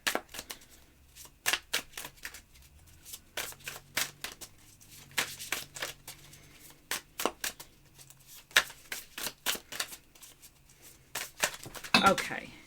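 Tarot cards being shuffled by hand in repeated short riffling bursts, close and fairly quiet, with brief pauses between the flurries and a louder scatter near the end.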